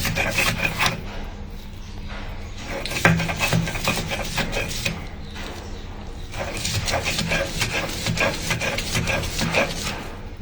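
Rhythmic scraping and rubbing of stone on stone as food is ground on a new, still-smooth grinding slab, repeated strokes heard close with occasional voices.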